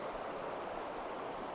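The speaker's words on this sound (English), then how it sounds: "I found a rather nice shot over here with some waterfalls" Waterfalls and river rapids in an autumn landscape give a steady broadband rush of moving water, continuous and even with no breaks.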